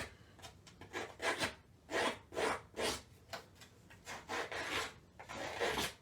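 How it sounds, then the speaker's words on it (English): Scissors scrape the edges of a pastel stick in a run of about a dozen quick, rasping strokes, close and fairly soft, each stroke a short gritty burst with small gaps between them. "I'm going to take my scissors and literally just rough up the edges"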